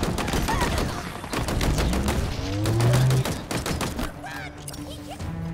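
Dense gunfire rings out in Halo Infinite's Riven Gate campaign mission on Heroic difficulty: rapid bursts and volleys crackle on top of one another, with a loud deep thud partway through and steady battle noise throughout.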